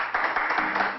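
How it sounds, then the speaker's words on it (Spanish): A brief burst of applause, a few quick claps in a short rhythmic patter, close and fairly loud. "Yo creo que se mete un aplauso igual"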